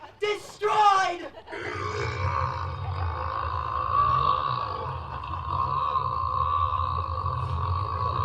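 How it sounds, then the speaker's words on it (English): A long, loud, deep burp rumbles on for several seconds during a children's stage production of the musical Matilda, following a brief burst of shouted, growling vocal at the start. "That was the biggest burp I've ever done."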